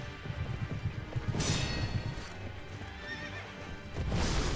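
A horse in the video game Sekiro: Shadows Die Twice neighs loudly twice while its hooves clop steadily, close up, with no voices.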